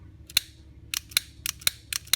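Sharp metallic clicks come from the bolt carrier of a short stroke trigger kit as it kicks back. About seven quick, close, dry snaps arrive in small uneven clusters over a quiet background.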